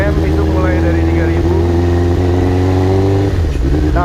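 A 1986 Suzuki GSX-R 750 motorcycle engine runs loud and close with a steady, rich harmonic drone that swells slightly and then drops, with a voice talking over it.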